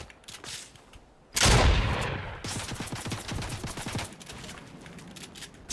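Gunfire in a shooter video game: a sudden loud close burst of shots, then a rapid, steady volley of crackling rounds that continues under faint background noise.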